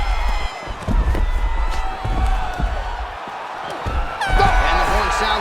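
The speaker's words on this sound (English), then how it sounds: "a standing ovation from this capacity crowd after that round" Capacity crowd giving a standing ovation after a round in EA Sports UFC 6, loud sustained cheering and applause with whoops that swell again near the end.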